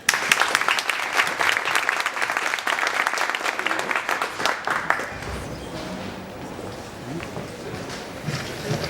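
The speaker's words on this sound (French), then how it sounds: "Je vous remercie de les applaudir." A conference audience claps loudly for about five seconds for presenters, then the applause fades out and quiet room noise with a voice follows.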